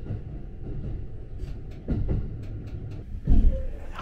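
A local commuter train runs along the line toward Kyoto Station, a low rumbling roll with a few sharp clacks of wheels over rail joints and a heavier thump near the end, heard from close by.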